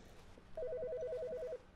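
A telephone rings in The Stanley Parable with a single electronic trill burst: a rapid two-tone warble that alternates evenly for about a second. It is clear and isolated over quiet room ambience.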